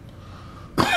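A single short cough near the microphone, a sharp burst after a quiet stretch of faint background hum.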